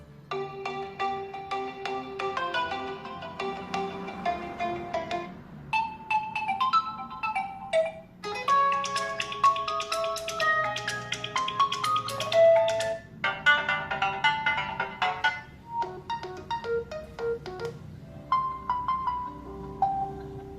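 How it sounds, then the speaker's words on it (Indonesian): Ringtone melody played through the twin stereo speakers of a Realme C67 smartphone, bright and clear, with bursts of chiming notes that pause briefly and restart over about twenty seconds, no talking. "Kita coba untuk memutar ringtone ya."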